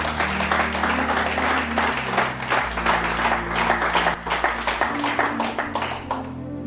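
A church congregation claps and cheers together, producing a dense, loud burst of rhythmic applause under sustained music, with a voice calling out briefly before it tapers near the end.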